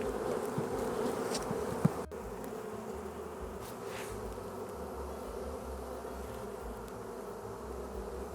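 Steady, dense buzzing of many honey bees around a hive, a continuous close drone with a brief knock near the start.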